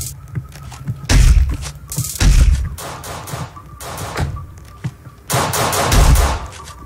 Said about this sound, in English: I just got shot so many times.